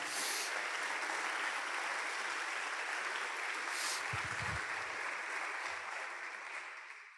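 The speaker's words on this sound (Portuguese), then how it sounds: "Você pode dar um aplauso a Ele em nome de Jesus?" A church congregation applauds during a sermon, producing steady, fairly quiet broadband clapping that holds evenly and fades out at the end.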